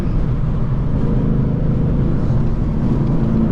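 Inside a moving Ford Mustang GT, a loud, steady low rumble of road and engine noise with wind in the cabin, constant and unbroken, with no talking.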